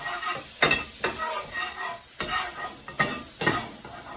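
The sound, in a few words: butter sizzling in a warm frying pan for wartime pancakes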